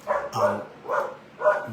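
A dog barks repeatedly in a steady rhythm, four sharp woofs about half a second apart, close and moderately loud with no talking over them.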